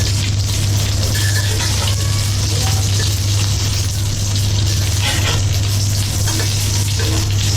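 Tuna fish kababs frying in a pan, a steady dense sizzle of hot oil running continuously and fairly loud throughout, with no voices over it.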